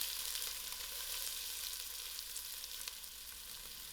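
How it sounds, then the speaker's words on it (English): Sliced onions frying in heated oil in a pot at the start of a creamy salmon soup: a soft, continuous sizzle with faint crackles and pops, steady and close, with no talking. "allow these onions fry till it's soft"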